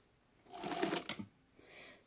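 A vintage Janome New Home sewing machine stitching in a short, quiet burst of rapid mechanical whirring and needle clatter, followed by a softer hum as it slows.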